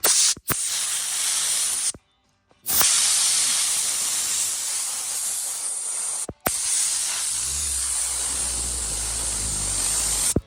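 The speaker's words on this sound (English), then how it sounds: "So you just take your rear hose here and" Compressed air blasting from a hose in bursts, a loud broadband hiss broken by brief pauses near the start and middle, steady and close with no talking.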